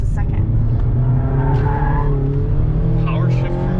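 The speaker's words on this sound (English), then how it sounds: "Ron wants you to do a power shift" A 2021 Mazda MX-5 Miata does a power shift from first to second, its engine note rising and its tires squealing in a short, loud burst while people talk over it.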